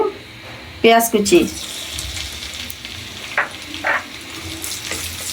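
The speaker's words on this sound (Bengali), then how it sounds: "পেঁয়াজ কুচিটা হালকা নেড়ে চেড়ে ভেজে নিব" Chopped onions frying in hot oil in a pan, with a loud burst of sizzling as they go in and a steady crackling fry afterwards, broken by a few clinks and scrapes of stirring.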